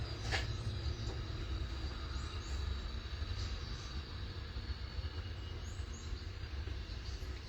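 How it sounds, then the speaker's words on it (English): A train rumbles past steadily with a broad roar and rolling wheel noise, continuous and fairly distant, with no voices; it blows its horn. "I'll give that train a second to go by."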